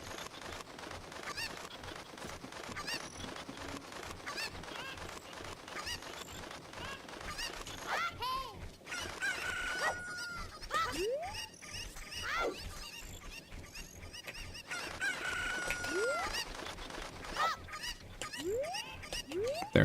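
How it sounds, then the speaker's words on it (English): Poultry calls in a video game, with rising squawk-like tones repeating every couple of seconds over a busy, constant game soundscape; tagged more like honking geese than clucking chickens. "Just grab this chicken and go."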